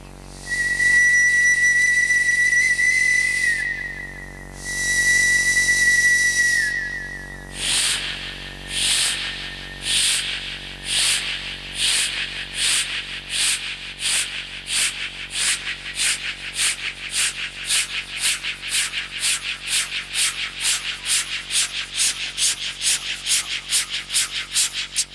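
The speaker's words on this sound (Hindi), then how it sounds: "हम जिस ट्रेन से आए उस ट्रेन की आवाज" A train sounds two long, loud whistle blasts, then its wheels set up a rhythmic clatter that grows quicker and steadier as the train runs on, with no voices.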